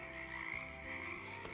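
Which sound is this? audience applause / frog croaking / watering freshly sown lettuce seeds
frog croaking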